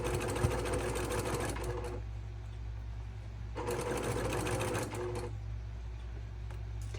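A sewing machine stitches through a double wedding ring quilt in two quick bursts of rapid, even chatter, with a short pause between them over a low steady hum.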